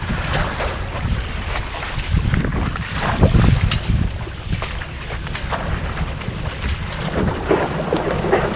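Strong wind roars steadily across open water during a sailing outing with whitecaps on the sea, buffeting the microphone in loud gusts over a low rumble, with no voices.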